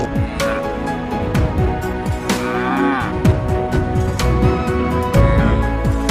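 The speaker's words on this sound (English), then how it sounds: "Highland cattle." Highland cattle lowing in a farm setting, with several drawn-out moos rising and falling over a steady background of other animal and outdoor noise.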